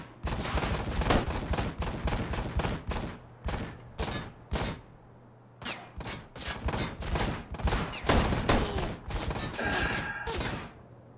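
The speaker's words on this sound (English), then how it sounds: "Let's try the pistol. I'm much better with it." Pistol shots fired in the game Ride To Hell: Retribution, a dense, loud barrage of rapid cracks in long bursts with a brief lull midway.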